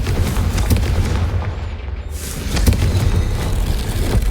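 Hogwarts Legacy's Confringo blasting spell explodes with a loud, low boom, a brief lull, then a second heavy blast rumbling on with crackling debris.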